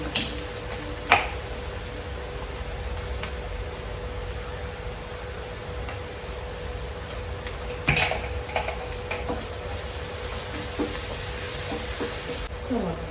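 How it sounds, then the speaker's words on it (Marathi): Green chillies and salt sauté in a pan with garlic, a constant soft frying hiss like light rain, with a few sharp clinks and scrapes of a spatula, close with no speech. "आता आपण ह्याच्यामध्ये मिरची टाकू. व्यवस्थित परतवून घेते मी."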